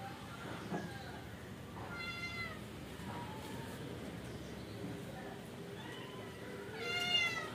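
Faint meows come in short calls from a cat indoors around a feeding dish, heard against a steady low background hum with voices nearby.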